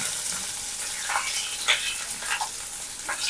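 Onions, green chillies and curry leaves frying in a pan give a steady close sizzle, with a few brief stirring scrapes over the crackle.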